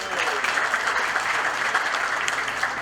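Steady applause from an audience at the groundbreaking ceremony for the HNC lock complex, dense and continuous, filling the moment without a break.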